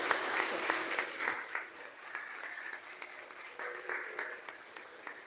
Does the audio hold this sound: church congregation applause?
yes